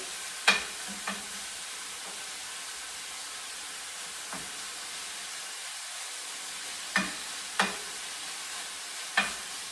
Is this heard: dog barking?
no